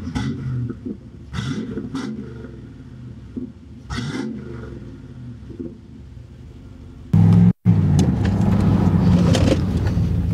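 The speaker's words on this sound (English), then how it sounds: "We're going to give you some revs here on this beautiful IROC." A 1988 Chevrolet Camaro IROC-Z engine sits at a low rumbling idle and is blipped in short rev bursts, then roars louder and steadier near the end after a brief cut, with no talking over it.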